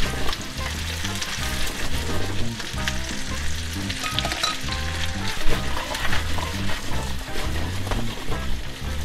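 New potatoes fry in butter in a hot pan, giving off a loud, continuous sizzle and crackle with a steady background hum, close up throughout.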